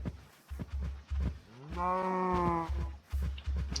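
A single drawn-out cow moo in a video game rises and holds over a steady, repeating rhythmic thumping, like stylized game sounds, with no speech.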